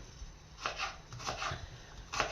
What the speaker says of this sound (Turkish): 4 tane soğan doğrayacağım bunun için.